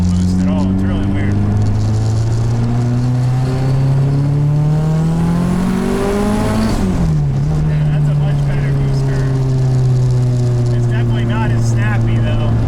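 A straight-piped K24 engine in a Nissan Cefiro under boost revs loud and close, pitch climbing steadily to a peak, dropping sharply, then holding a raspy high drone that slowly eases, with a voice talking over it.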